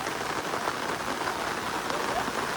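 A downpour in the countryside beside a village school makes a constant close roar of rain striking the ground and roofs, unbroken and loud throughout.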